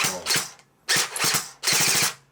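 A toy gun-shaped game controller firing on automatic, heard as three short bursts of rapid mechanical clatter close by, separated by brief pauses.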